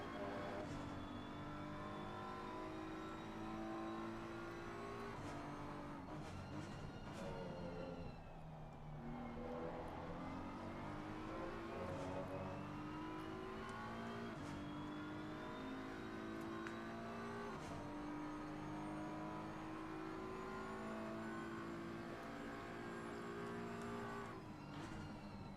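GT3 race cars from BMW, Ferrari and others run at Valencia in a racing video game, engine notes rising and falling steadily as several cars pass, with a continuous loud layered whine throughout.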